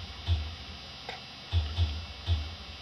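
A programmed breakbeat drum pattern plays back at a moderate tempo, with deep kick thumps and brighter snare-like hits in a repeating rhythm over a hissy, noisy bed; no voices.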